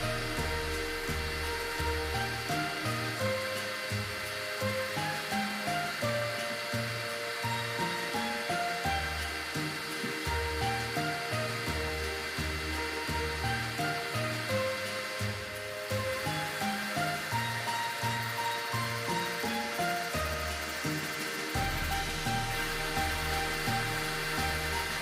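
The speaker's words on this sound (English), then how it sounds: "And then I will use a buffer just to get the last little bits off" An electric nail buffer grinds away thick Polygel nails beside a dust collector, a continuous whirring drone with fluctuating motor pitch and rough scraping texture, sustained and close throughout with no speech.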